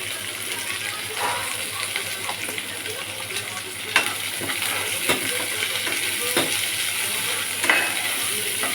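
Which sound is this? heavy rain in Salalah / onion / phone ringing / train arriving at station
onion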